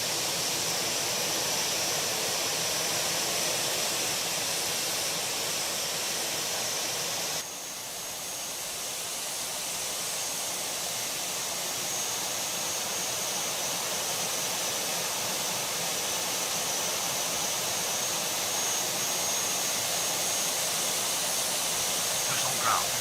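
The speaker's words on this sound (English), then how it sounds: "That second engine is spooling up." Jet engine spooling up in the Tower Simulator 3 airport game at Tucson, a steady broad roaring hiss that drops briefly then builds again and holds, continuous and fairly loud with no talk.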